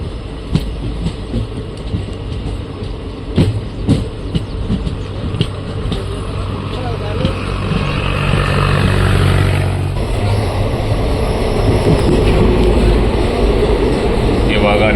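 Train running on track as it nears KRS railway station, a rumbling, rattling ride with clicks that swells into a steady loud roar, heard from on board.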